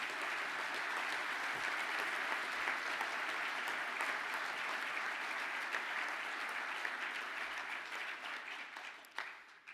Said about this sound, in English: Can the class of manufacturing engineering please stand up for a well-deserved